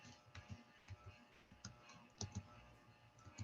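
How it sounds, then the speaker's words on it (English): Soft, irregular clicking of someone typing on a keyboard during an online meeting, faint and scattered over low room noise. "I hear clicking like he's typing."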